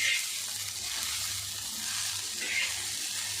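Okra with onions and spices shallow frying in a pan gives a steady, close hiss and sizzle, rising slightly in two soft surges, with no talk over it.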